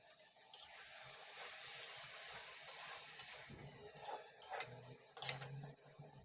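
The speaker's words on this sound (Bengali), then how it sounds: "চাল ডাল মশলার সাথে 3 থেকে 4 মিনিট ভুনে নিতে হবে।" Rice and lentils frying with spices in a pan for vegetable khichuri: a soft, steady sizzle and hiss with occasional scraping stirs and clinks growing louder toward the end, fairly quiet and close.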